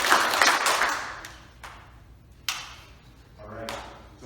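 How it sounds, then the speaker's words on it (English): A group at a summer camp claps in response, giving a few loose, uneven bursts of hand claps amid faint murmuring and room noise. "If you can hear me, clap 3 times."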